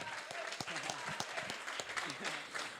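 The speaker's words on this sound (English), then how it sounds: "Round of applause pour tante Karen." Wedding guests at a reception on a private estate in Vars, Ontario applaud in a soft, fairly distant round of clapping, with a voice talking over it.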